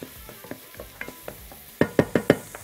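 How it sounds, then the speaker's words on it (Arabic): Rice and onion are stirred in a hot pan, the spoon scraping in a series of soft taps that turn into four louder, rhythmic scrapes near the end, with a light sizzle underneath. "خدها مع البصلة كده تشويحة"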